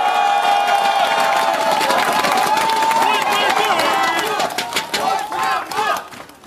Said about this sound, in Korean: 환영의 박수 보내주세요.